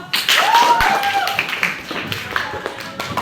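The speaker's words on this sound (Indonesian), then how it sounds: "Oke, tepuk tangan dulu." A classroom of students at a junior high school clap their hands together in a quick burst of scattered claps, close by, with voices calling out over the clapping.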